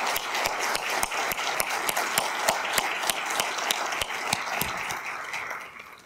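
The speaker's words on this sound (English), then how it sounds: "Can we not give these women a huge round of applause?" A conference audience applauds after a session honouring women in the waste and recycling industry. Many hands clap in a dense, sustained burst that fades slightly toward the end.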